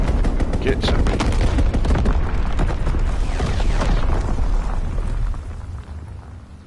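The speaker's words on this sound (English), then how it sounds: "Firing division artillery. Target position confirmed. Strafing run inbound." Artillery barrage and strafing-run gunfire in Call of Duty WWII, a dense, loud roar of rapid shots and booms for about five seconds before tapering off, with voices underneath.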